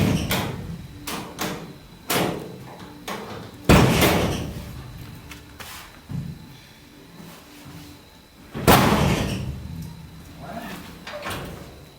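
A 1994 Ford F-150 tailgate is worked open and shut, with a series of loud metallic clunks and slams at irregular intervals, two especially heavy bangs standing out, and quiet handling noise between them.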